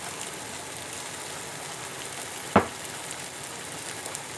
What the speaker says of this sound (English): I'm going to let you guys watch everything sizzle for a minute